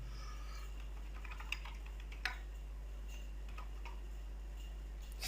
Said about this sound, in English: and here I'm just typing remarks